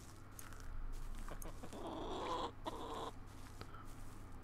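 Chickens in The Sims 4 Realms of Magic: a few soft, faint clucks and little squawks over a low steady background hum, with a quiet rustle in the middle and a small click near the end.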